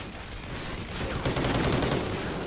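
Gunfire in the video game Call of Duty: Ghosts: a dense, continuous wash of rapid shots and battle noise that grows louder partway through, with no talking.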